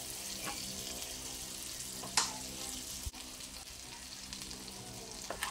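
Garlic sizzles steadily in hot oil in a pan, a continuous close frying hiss with a few stirring scrapes and clicks scattered through, no talking.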